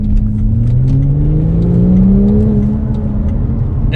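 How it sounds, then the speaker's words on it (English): A Volvo with a twin-scroll turbocharged engine accelerates hard, its rising engine note sweeping steadily upward over about four seconds with a turbo whir on top, loud and close, no voices. "another cool feature in this car is the twin scroll turbo that literally never fails to"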